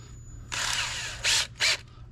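A power drill bores into the frame of a 2002 Jeep Wrangler during a rear bumper install: one sustained whining run, then two short, louder bursts, close and alone.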